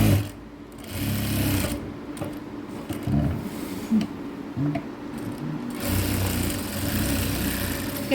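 Sewing machine fast-stitching the edge of a coat collar, a loud close continuous mechanical whir in several long runs, with brief pauses where it stops and restarts.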